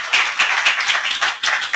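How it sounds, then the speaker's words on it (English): Audience clapping for a speaker at a professional training session, a loud, close patter of hands in uneven bursts with a brief dip before resuming. "But we're going to give David a round of applause because he was awesome"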